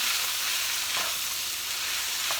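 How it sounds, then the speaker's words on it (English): Diced onion and garlic sauté in a pan with a steady, close sizzle and a faint clink or two of stirring, no voices over it. "I diced the onion fairly small, and I'm putting those in"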